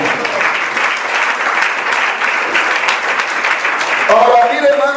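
A church congregation claps for the Lord during a sermon, dense sustained applause filling the room for about four seconds before a voice begins speaking over the fading claps.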